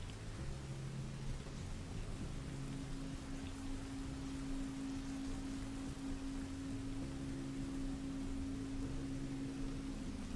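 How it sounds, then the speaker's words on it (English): Steady rain pouring in the video game Rain World: Downpour, a dense continuous hiss throughout, with a low droning hum underneath and no other distinct events. "It's still raining."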